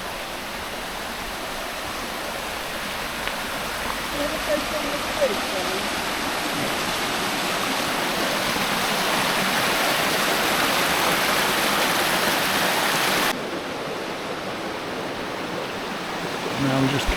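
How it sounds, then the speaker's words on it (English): A mountain stream and waterfall at Aber Falls in Wales rush with a steady, full hiss of tumbling water that stays loud and close, then drops abruptly to a duller, quieter roar near the end. "A chance to have a look at the water going down the mountain."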